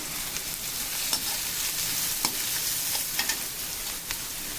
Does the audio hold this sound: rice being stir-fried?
yes